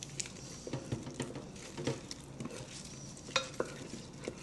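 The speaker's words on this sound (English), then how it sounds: "Just give it a little stir." Tomato paste being stirred into sizzling onions and garlic in a pan while braising short ribs, with soft scraping and spoon taps over a low, steady fry.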